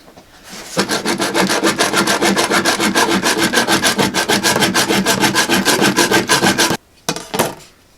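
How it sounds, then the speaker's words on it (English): A small hand saw cutting an aluminum piece in half, a fast steady rasping back-and-forth stroke rhythm, loud and close, ending abruptly followed by a couple of brief scrapes. "picked up just a little hand saw here that you can cut this aluminum with"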